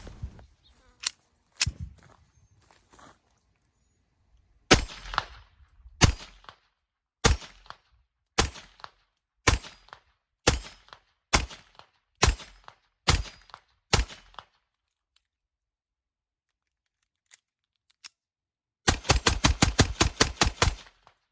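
A Ruger LCP II pistol in .22LR fires Stinger ammunition: sharp, loud single shots spaced a second or so apart, a long pause, then a fast string of rapid shots at the end.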